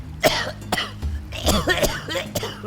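Several harsh coughs and throat-clearing bursts come close together, loud and near, with short breaths between them.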